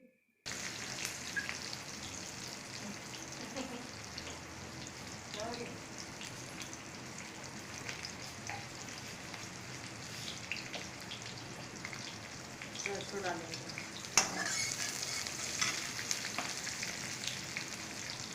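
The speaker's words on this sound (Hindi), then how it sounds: "अब इसे थोड़ा सा भूनेंगे।" Chopped green chillies and onion fry in a kadhai for Chhattisgarhi dubki, making a soft, steady sizzle with scattered crackles and occasional stirring scrapes throughout.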